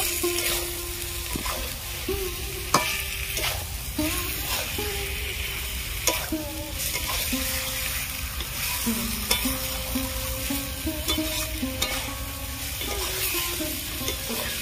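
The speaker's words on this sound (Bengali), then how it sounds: "ভেজে রাখা বেগুনগুলো দিয়ে দেবো গ্রেভির মধ্যে, ভালো করে কষিয়ে নেব" Fried brinjal pieces being stirred into a simmering koi fish curry gravy, a steady sizzle running beneath repeated scraping strokes of a spatula against the pan, close and continuous throughout.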